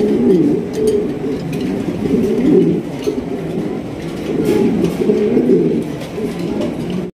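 A pair of spangle stretcher pigeons coos steadily at a large pigeon farm, their soft, throaty calls rolling on in overlapping waves without a break from start to finish.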